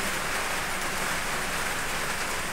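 Steady, dense hiss of rain falling, continuous and even throughout with no voices.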